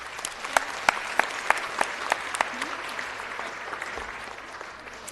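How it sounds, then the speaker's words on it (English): Audience applause at a city council meeting, a steady roomful of clapping with sharp individual claps standing out, fairly near and lasting throughout before thinning slightly at the end. "If we can please give them a round of applause."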